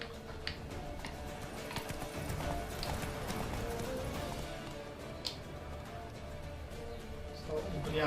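Hooves of Geralt's horse Roach in The Witcher 3 clip-clop steadily under a busy game soundscape, with occasional sharp ticks and a brief whinny-like accent near the end.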